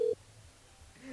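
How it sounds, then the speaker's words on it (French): A single short telephone keypad tone from a radio station's call-in line, then near silence and a faint line sound as the call is placed. "Allez, on appelle Daphné"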